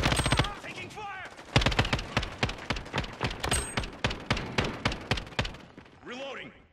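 Rapid gunfire in an online 2v2 match of Call of Duty: Modern Warfare, with close, loud automatic bursts and rhythmic single shots firing in quick succession, a voice shouting in the middle, and whooshing effects at the end.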